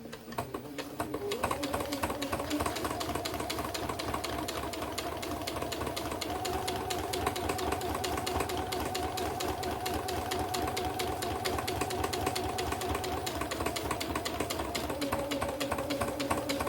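A sewing machine stitches fabric for the inside covers of a junk journal, running steadily and up close with a fast, even mechanical rhythm for the whole stretch, tone shifting slightly as it goes.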